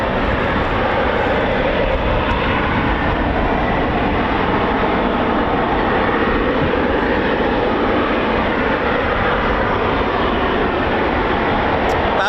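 A Eurofighter Typhoon FGR4 jet at the RAF Coningsby quick reaction alert station gives a loud, unbroken roar that holds steady for the whole stretch, with no voices.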